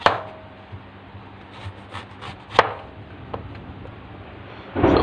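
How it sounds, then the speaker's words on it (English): A knife cuts turnip into cubes on a board, heard as soft, scattered taps and chops at close range, with one sharper knock midway and a louder scrape at the end. "need to cut the turnip like this. Need to cut in the cubes"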